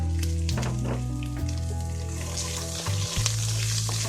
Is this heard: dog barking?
no